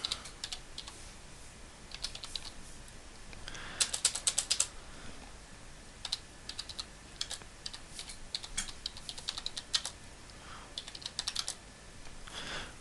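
Steady typing on a computer keyboard, quick clicking keystrokes in uneven runs with occasional louder bursts, close up over faint background noise, no talking.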